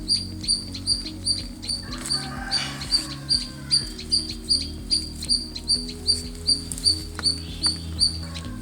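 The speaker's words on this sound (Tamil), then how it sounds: "உங்களுக்கு ஒரு குருவி சத்தம் கேட்குதா?" A sparrow near its nest in a rooftop vegetable garden gives a continuous run of bright, evenly spaced chirps, close and clear, over a faint low hum.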